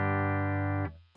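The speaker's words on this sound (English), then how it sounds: "Here's the full Invader humbucker in series mode." One sustained electric guitar chord rings out through an Invader humbucker pickup wired in series, thick and steady, then is choked off abruptly near the end.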